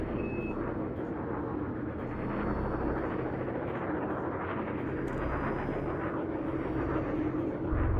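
Alliance Challenger spaceship in the game Elite Dangerous lifting off a landing pad: a steady, loud engine rumble and roar that holds evenly throughout, with faint high tones above.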